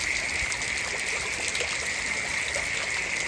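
Floodwater after record rainfall in Porbandar district rushes steadily with a constant broad hiss, loud and unbroken throughout, no voices.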